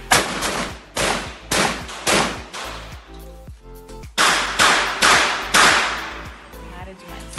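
Repeated blasts from a 12-gauge Italian Fausti shotgun fired outdoors, about nine sharp, loud reports in a steady rhythm, each with a decaying echo, a pause midway, and faint voices between some shots.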